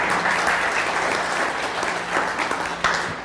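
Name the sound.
audience applause for staff members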